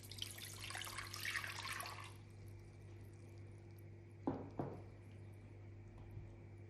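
Water pours for a blackberry syrup, splashing in a brief faint rush at the start, then a couple of soft drips and clinks over a quiet, humming background.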